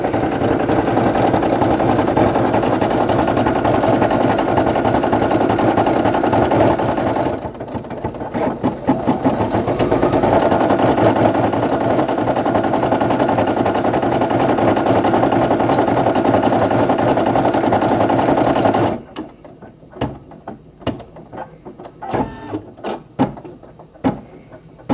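Brother PE800 embroidery machine stitching a patch, a loud, steady mechanical whir with a rapid needle rhythm that briefly drops partway through, then stops into scattered clicks and handling noises near the end.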